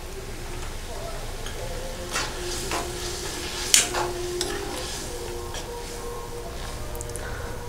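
Cleaned sardines slipped into a boiling chili fish curry, with bubbling and sizzling in the pot and a few soft splashes and clinks, heard up close.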